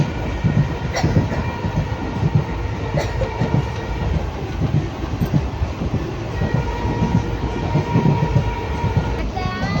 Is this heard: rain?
no